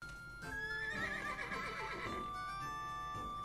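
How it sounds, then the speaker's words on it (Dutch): A horse gives a single close, loud whinny that rises and then trails off into a wavering tail, heard on its own without talk. "Een paard in nood."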